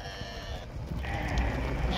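Sheep bleat at an outdoor livestock market in Morocco, one drawn-out call followed by another, fairly loud against a background of crowd murmur and no clear talking.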